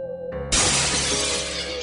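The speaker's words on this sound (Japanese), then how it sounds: "ガラスの割れる音や、" Glass shatters as a sound effect: a sharp, loud crash bursts in after a low tonal hum and then trails into a bright, scattering tinkle of falling shards, with no voices.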